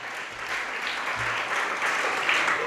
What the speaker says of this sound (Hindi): ये नए बच्चों के सम्मान में ताली बजाओ भैया